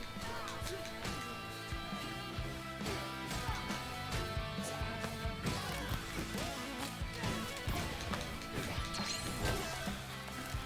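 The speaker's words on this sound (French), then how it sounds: "ça fait un bruit de guitare quand on frappe" Dense Hi-Fi Rush game action with repeated sharp, twangy guitar-like strikes on each weapon hit, layered over busy music and effects, loud and continuous.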